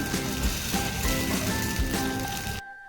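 Cabbage manchurian gravy with cabbage and tomato simmers in a pan as it comes to a boil, giving a steady close bubbling sizzle with a faint tone running through, ending abruptly.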